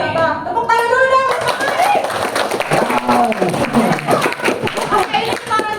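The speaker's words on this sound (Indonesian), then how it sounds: "Tepuk tangan dulu dong" Students at a school public speaking session clap together, a lively round of hands mixed with chatter and voices close by.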